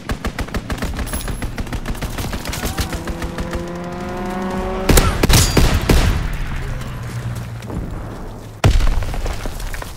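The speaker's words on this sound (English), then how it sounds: "strafing run inbound." A strafing run in Call of Duty WWII brings dense rapid machine-gun fire, with sharp explosion bursts about midway and again near the end, all loud and continuous, and no one speaks.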